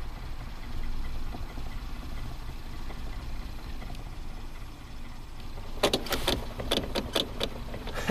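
A Kia Soul GDI engine running rough as throttle is applied, a low steady rumble that ends in a cluster of sharp clicks and rattles.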